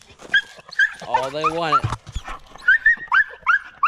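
German Shorthaired Pointers whimper and whine in high, wavering cries during bird dog training in the field, close and loud, while a person talks over them.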